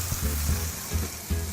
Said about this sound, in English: So you wanna hear the sizzle,